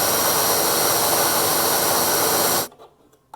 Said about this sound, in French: Et on va mixer ça tout de suite.